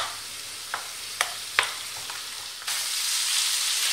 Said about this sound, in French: je continue à mélanger pendant une dizaine de minutes en remuant de temps à autre jusqu'à ce que j'obtienne une farce homogène et cuite